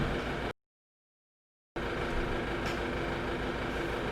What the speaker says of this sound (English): That refrigerator's really loud.